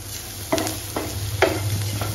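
Flour roasting in a pan for a spinach, corn and cheese sandwich, with a low steady sizzle broken by a few distinct scraping stirs of a spoon, close and clear, no voices.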